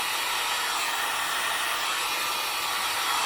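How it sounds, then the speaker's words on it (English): A heat gun running steadily for a Nintendo Virtual Boy console repair, giving a constant close airy whoosh with no change in level and no voices. "I'll turn the heat gun on."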